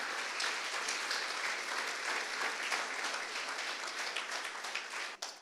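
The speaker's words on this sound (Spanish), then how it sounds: "Alguien le da un aplauso a Jesús esta mañana." A church congregation bursts into sustained applause during a Spanish-language service, a dense, even wash of clapping from many hands that continues for several seconds.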